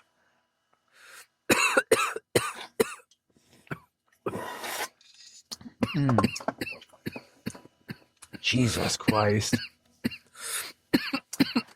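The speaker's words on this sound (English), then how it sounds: "Now he's coughing. That was fucking harsh." A series of harsh, rasping coughs in rapid bursts, close and loud, broken by pauses and a brief spoken exclamation.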